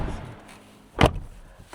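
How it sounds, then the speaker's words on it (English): A Denza B8 SUV door slams shut once in a single sharp, solid thud after a quiet moment, close by, with faint low background rumble around it. "And now see the door quality, like slam your door."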